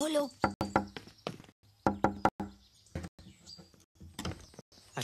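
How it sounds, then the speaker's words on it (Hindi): Knocking on a door in a Bollywood film scene: sharp raps in quick clusters, repeated several times, mixed in with people talking. "रोहित दरवाजा खोलो।"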